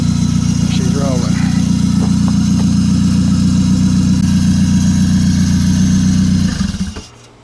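A 1999 Saab 9-3 engine with an exhaust leak idles loudly and steadily, heard up close with a constant drone and some ticking, then cuts off at the end. Voices talk faintly over the engine.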